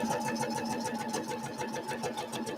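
A sewing machine stitches a quilt seam with a quick steady mechanical chatter, its needle rhythm repeating evenly and close throughout.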